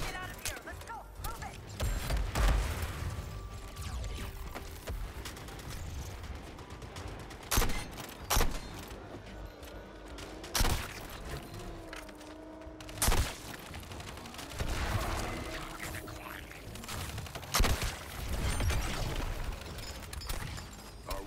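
Gunfire rattles in repeated bursts against an enemy tank in the Suicide Squad: Kill the Justice League video game, with sharp blasts and impacts scattered across the fight, mixed with character voices talking.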